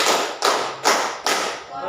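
A class of pupils claps hands together in unison during a classroom lesson, four loud, evenly spaced broadband bursts.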